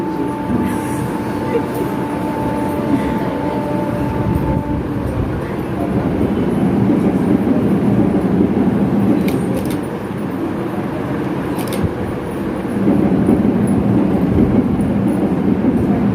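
Train arrival sound effect played during a stage drama for a Gaur Purnima celebration, a steady loud rumble of rolling rail wagons with brief horn-like tones early on, lasting throughout.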